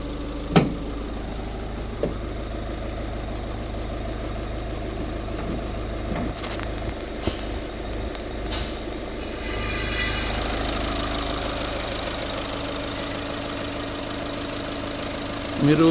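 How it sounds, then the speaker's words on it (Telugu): Volkswagen Ameo 1.5 TDI Highline Plus diesel engine idling steadily with a low, even rumble throughout, a few faint clicks and taps over it and a brief louder knock at the very end. "మీరు బీటింగ్ అనేది గమనిస్తే ఎక్కడ డిస్టర్బెన్సెస్, అన్వాంటెడ్ సౌండ్స్ అనేవి ఏమీ ఉండవండి"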